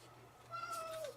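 A pet cat lets out a single short, fairly faint meow with a falling pitch in a quiet room.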